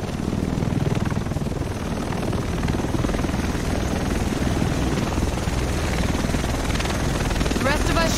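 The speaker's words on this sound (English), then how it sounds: "The rest of us should be in this chopper." A helicopter arrives in the video game Tom Clancy's The Division, set in Manhattan, its rotor a steady, heavy, unbroken thrum that holds loud and constant throughout.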